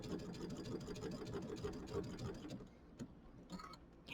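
A sewing machine stitches a Kimberbell mini quilt, its fast, even whirring hum running continuously before easing off near the end, quiet and close.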